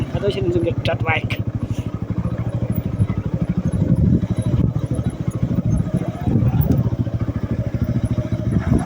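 A motorcycle rides over a rough, stony road, its engine droning steadily and close with a continuous rattling, bumpy clatter throughout, while voices talk over it.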